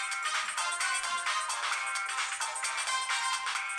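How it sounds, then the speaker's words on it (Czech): Music plays at full volume through a decent mobile phone's built-in speaker, a continuous thin, bright sound with almost no bass, steady and fairly loud. "Nejdřív si poslechněte, jak hraje slušný mobilní telefon na plné pecky."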